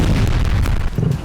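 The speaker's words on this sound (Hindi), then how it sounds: "मॉस्को में धमाके की आवाज सुनी गई" A heavy, rumbling explosion in Moscow during a drone attack fills the clip with deep, loud booming that rolls on without a break.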